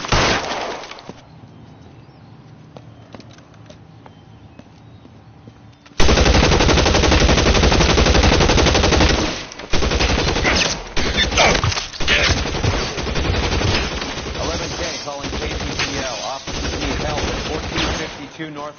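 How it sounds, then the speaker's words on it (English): Rapid machine-gun bursts and cracking gunfire fill a PS4 video game firefight, loud and near, with glass breaking amid the shots after a quieter opening. "Shots fired and officers need help at 1452 North Las Palmas"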